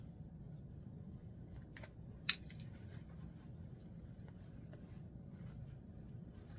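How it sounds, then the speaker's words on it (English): Scissors snip through sewing thread while a doll dress with a tulle overlay is sewn from a McCall's 2162 pattern: a single sharp, close snip stands out, with faint softer snips around it over a quiet room hum. "Go ahead and cut your strings off."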